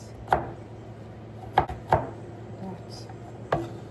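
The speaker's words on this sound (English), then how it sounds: "I'm going to chop it small, so that it will all cook together." Knife chopping onion and garlic on a board for red lentil soup, four sharp separate cuts spaced irregularly over a low steady background hum, close and fairly loud.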